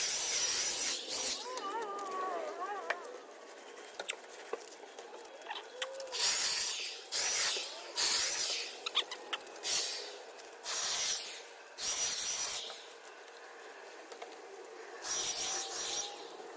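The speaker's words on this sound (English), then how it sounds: "If I rotate this right here, that changes the direction of my spray." A sprayer hisses in repeated bursts as black stain goes onto a wooden garden fence, each spray lasting a second or two with pauses between, while birds chirp faintly in the background.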